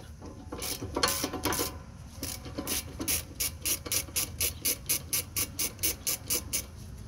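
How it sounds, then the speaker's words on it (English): A wire brush scrubs a brake caliper bracket on a 2015 Jeep Grand Cherokee, a close rhythmic series of rasping strokes that becomes steady and evenly spaced. "I'm going to wire brush this bracket so it's nice and clean."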